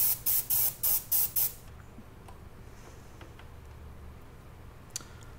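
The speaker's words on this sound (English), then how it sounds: "I'm going to solve that problem by taking my airbrush." Airbrush spraying paint onto a Pip-Boy prop, heard as five short hissing bursts in quick rhythm, close and clear, then quiet room tone.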